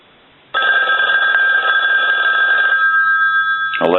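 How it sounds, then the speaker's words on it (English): The bell of a Western Electric 500 desk telephone rings loud and close in one long continuous burst of metallic clanging. It cuts off near the end, followed by a brief clatter. "So we want to go ahead and ring the telephone."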